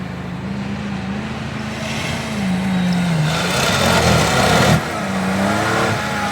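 A car engine revs up as the driver gives it more gas, a loud mid-pitched roar that climbs and holds, then drops back briefly before continuing.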